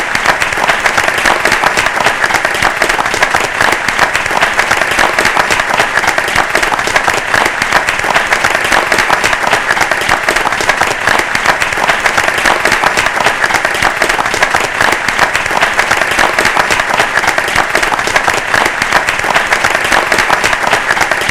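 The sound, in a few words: audience applause at award ceremony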